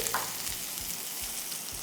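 Spring onions hit hot oil in a pan while salt and pepper chicken is being made, giving a loud, steady, close-up sizzle and crackle with a few soft stirring thumps.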